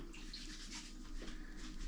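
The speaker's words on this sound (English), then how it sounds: "I'm going to wet my hands." Tap water running steadily into a sink as hands are wetted while making a sourdough loaf, a close continuous splashing hiss heard alone.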